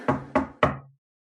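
Three sharp knocks on a door in quick succession, close and clear, followed by silence.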